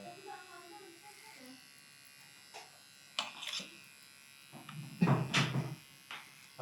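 Electric hair clippers buzz steadily at a barber shop in Tanzania, a low faint hum running throughout beneath scattered speech and brief louder bursts of voices and handling noise.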